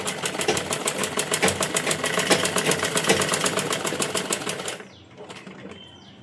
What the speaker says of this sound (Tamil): கீழே பெடல் போட்டு ஸ்டிச் பண்ண ஆரம்பிங்க